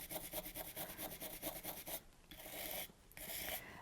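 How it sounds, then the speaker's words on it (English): Brass brush scrubbing the silver back of a gold keum-boo coin pendant, quick repeated close scratchy strokes in a steady rhythm, then a few longer, slower scrubs, quiet and with no voices. "So I'm just going to give that a brass brush."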